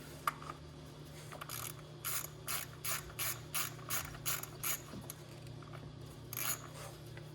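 Ratchet wrench tightening spark plug coil bolts through plastic on a 2015 Toyota Highlander 2GR-FE engine, a series of quick clicking bursts in steady rhythm, close and fairly quiet over a low background hum.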